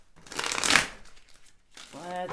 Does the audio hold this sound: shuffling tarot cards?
yes